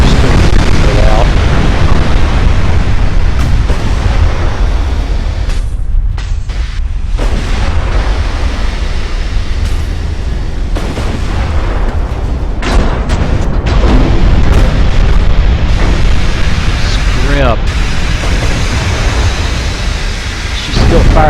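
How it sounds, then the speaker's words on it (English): 8-inch casemate guns firing in a naval battle in Ultimate Admiral: Dreadnoughts, with repeated loud booms and rumbling blasts over a constant roar of battle noise, spaced irregularly across the stretch. "She's still firing back with 8-inch casemate guns, it looks like."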